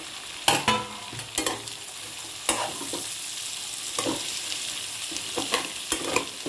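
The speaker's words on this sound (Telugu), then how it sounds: "వేసి వేయించుకోవాలి." Chopped carrot, beans, cabbage and capsicum sizzle in a pan while a spoon stirs them, giving a steady frying hiss broken by several sharp scraping clatters, close and fairly loud with no talk.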